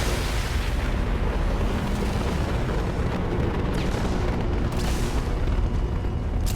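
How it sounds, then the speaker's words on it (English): Explosion from the Mass Effect 2 Legendary Edition video game, a loud sustained rumbling boom filling the whole stretch, with brief brighter bursts of debris noise near the middle and end, and no voices. "they nerfed the explosion"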